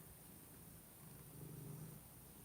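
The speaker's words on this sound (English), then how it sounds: "he's purring like a madman" A house cat purrs loudly in a steady low rumbling drone, very close and alone, swelling slightly toward the middle before easing off.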